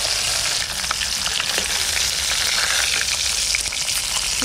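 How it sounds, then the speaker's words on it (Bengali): Pond fish fries in a little hot oil during village-style outdoor cooking. A loud, dense, steady crackle and spatter runs throughout, close up and with no one talking. "অল্প তেল দিলাম, তেলে ডুবে গেছে।"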